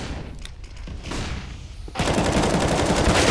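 Gunfire in Counter-Strike on the Inferno map during a professional ESL Pro League match: quiet ambience, then a loud, dense burst of rapid rifle fire that erupts and keeps going to the end.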